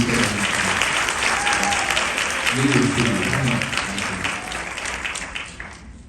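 A large crowd applauds at the opening of an MDRT D13 event in Thailand. The clapping is loud and dense, someone speaks over part of it, and it gradually fades toward the end.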